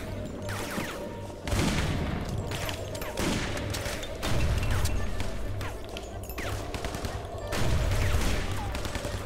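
Rapid gunfire crackles through the shooter game Guns, Gore and Cannoli, dense and loud, with repeated heavy bursts over a constant roar of battle and no pauses.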